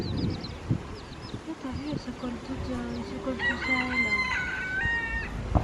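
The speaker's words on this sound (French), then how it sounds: "Mais le coq il est trop drôle." A rooster near hens pecking with their chicks, on a trip around Cascais near Lisbon, lets out a drawn-out crow with a few clucks before it, heard fairly close under people chatting nearby.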